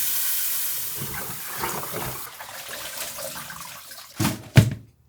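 Eels washed under a running kitchen tap: a close, hissing stream of water for a few seconds that fades, followed by a couple of wet clunks, with no talking.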